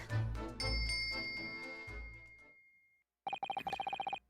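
Bell cord tugged in Great Ace Attorney, bright bell tones ringing and decaying over a few seconds, then a burst of rapid repeated chiming notes after a short silence.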